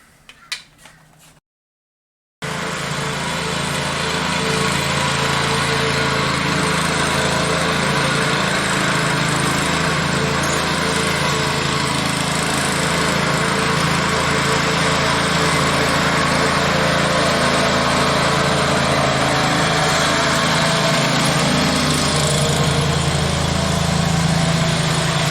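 The petrol engine of an omnidirectional tractor fires up after a few clicks and a short silence, then runs loud and steady nearby for more than twenty seconds.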